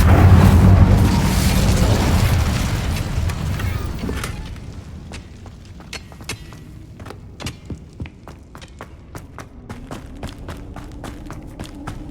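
The Incendio fire spell blasts in Hogwarts Legacy, a loud booming burst that rumbles and fades over several seconds, followed by a string of sharp footstep-like taps on their own.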